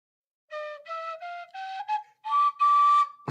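A thin, breathy whistle steps upward through a scale of short notes, slightly uneven in pitch, ending on a longer held tone.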